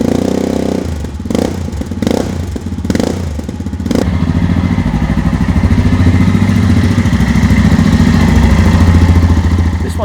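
A 2015 Yamaha Tenere adventure motorcycle engine thumps with a loud, rough idle after a few opening bangs and clatters, then runs steadily close by, its throbbing pulse swelling slightly toward the end.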